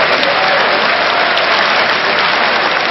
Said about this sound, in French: Des gens applaudissent lorsqu'ils tiennent ce genre de propos.